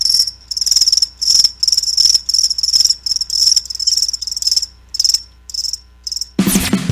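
Crickets chirp in loud, close, rapid pulsing bursts, one after another with short gaps, and the chirping breaks off abruptly into another sound at the very end.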